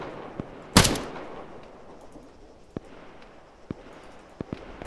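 Gunfire in the military shooter game ARMA 3: one loud sharp shot, then several fainter distant cracks spaced across a quiet background.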